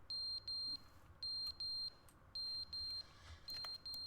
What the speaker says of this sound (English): Just smoke alarm?